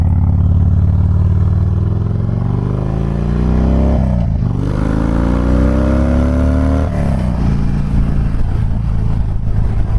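A custom Harley-Davidson Fat Bob motorcycle accelerates hard on a test ride around Raleigh, North Carolina, its loud, close engine note rising through the gears with two brief dips at gear changes, heard alone without talk.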